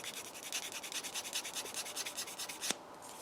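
White sandpaper rubs back and forth across plastic in quick, even strokes, a close rasping scratch that ends with a sharp tap.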